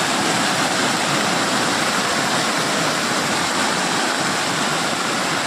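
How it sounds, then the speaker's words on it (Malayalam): Swollen river water after the Wayanad flood rushes past in a steady, dense roar, loud and close, with no break or change in level throughout. "ആ ലെവലിലാണ് ഇപ്പൊ വെള്ളം ഒഴുകുന്നത്."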